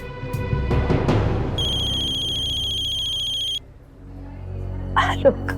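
Electronic phone ringtone with steady harmonic tones chirping for a couple of seconds, loud and close, with people talking before and around it in a domestic scene at night.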